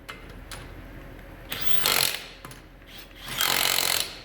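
Matco 16V 3/8-inch cordless electric impact gun fastening lug nuts on a wheel, two loud hammering bursts of about half a second and a second with short taps between, close up with no talking.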